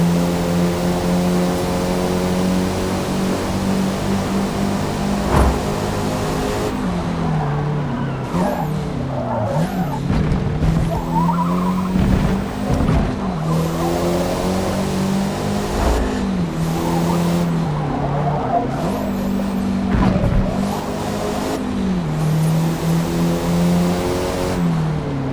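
A standard road car in Forza Motorport engine-drones and revs through corners with tire skids and squeals, the engine note rising and falling steadily, loud and close with no talk.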